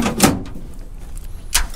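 A door of a 1979 Chevy Malibu with bent, split bodywork is worked open, giving two sharp metallic clunks about a second apart with faint scraping between them, close and loud.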